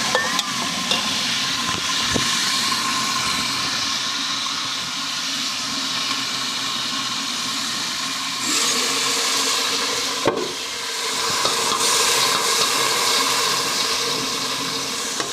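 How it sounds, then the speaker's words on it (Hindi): Hot tadka tempering with browned onion poured over rice in a kitchen, giving a steady loud sizzle and frying hiss that runs on with faint stirring clatter and no talk. "इसे हम तड़का लगा देने चावलों को।"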